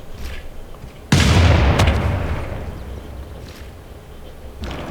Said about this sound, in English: let's keep bombarding